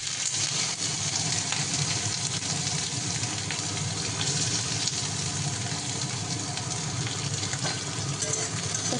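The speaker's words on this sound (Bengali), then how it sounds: "প্রথমে একটু পেঁয়াজটা ভেজে নিচ্ছি।" Chopped onion fries in oil in a pan, a continuous dense sizzle and hiss heard up close at an even, fairly loud level, with a faint background hum and no voices.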